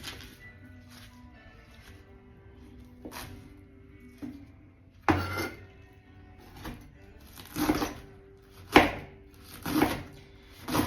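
A kitchen knife slices food thinly for an omelet on a cutting board, a series of separate close cutting strokes that grow louder and more frequent toward the end, over faint room noise.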